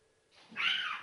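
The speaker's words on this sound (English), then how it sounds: "Fucking cat." A single short cat meow rises after a quiet moment, fairly faint and alone.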